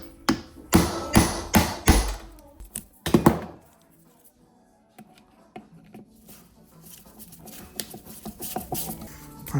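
Screws come out of a 1982 Suzuki RM 125 motocross bike in a workshop: sharp metallic taps, clinks and thunks in quick uneven bursts, a quiet lull, then lighter scattered clicks and rattles close by.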